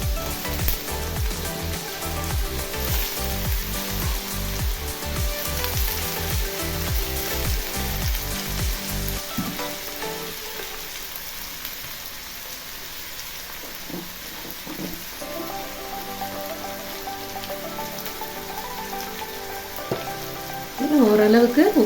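Chopped brinjal for avarakkai thokku frying in a pan, a loud crackling sizzle at first that drops to a softer, quieter hiss midway, then swells again near the end with a brief scrape.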